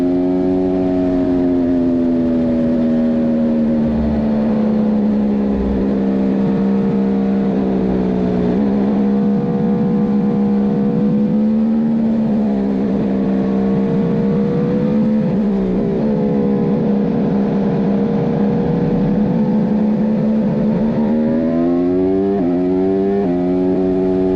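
A Formula One racing car engine screams loud and close for a long run, its high whine climbing in pitch and dropping sharply at each upshift, repeating through several gear changes with no talk.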